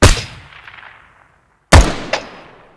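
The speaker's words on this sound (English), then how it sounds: "The last thing I want to say about sound is that they actually now have bullet trailing" Two sharp gunshots in the Ground Branch tactical shooter, each a loud close crack followed by a long whooshing bullet trail that fades out, the second shot coming after a short silence with a brief extra snap.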